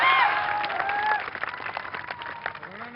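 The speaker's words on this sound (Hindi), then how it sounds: "और बजाओ ताली सब लोग इनके लिए" An audience at a live event claps and cheers, the applause continuing steadily, while people talk and call out over it near the start.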